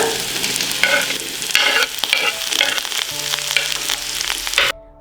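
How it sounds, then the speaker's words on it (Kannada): Chopped onions frying in oil, a close, crackling sizzle with repeated stirring scrapes, ending abruptly. "ಈಗ ಕಟ್ ಮಾಡಿರೋ ಈರುಳ್ಳಿಯನ್ನ ಹಾಕೊಳ್ಳೋಣ."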